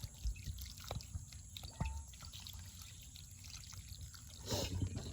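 Collected rainwater poured deeply around a mature plant set in compost, a soft, close trickle and splash of water with occasional drips, steady and quiet, swelling briefly near the end.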